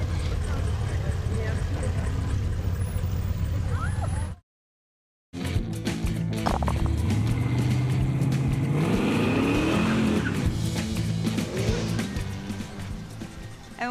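Classic cars cruising Saginaw Street during the Back to the Bricks car cruise, a loud, continuous engine rumble with rising revs and passing vehicles, broken by a brief dropout, with people talking over the noise.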